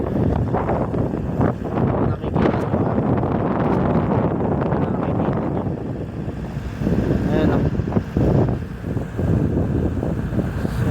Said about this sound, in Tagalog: malakas ang hangin, masyadong malakas ang hangin